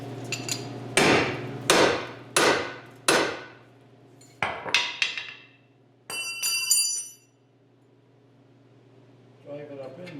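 A hammer strikes the front steering knuckle of a 2008 Hyundai Santa Fe during wheel bearing and CV shaft repair, about eight sharp ringing metallic blows in uneven bursts, then a short pause before a faint rattle, with a low hum underneath.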